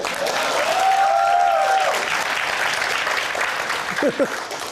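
Studio audience applauding on a Russian talk show set, a broad steady clapping wash that fills the whole stretch, with a voice calling out over it near the start and brief vocal sounds toward the end.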